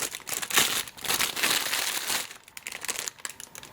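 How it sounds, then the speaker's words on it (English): A vintage Bulova radio is pulled from a plastic bag, giving close, loud crinkling and rustling in irregular bursts that thin out toward the end. "Get out of that noisy plastic bag."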